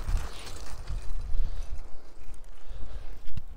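A horse-drawn cart in an oasis village near Oman's Sharqiya Sands passes close by, its hooves clip-clopping in a steady rhythm under wind and outdoor noise.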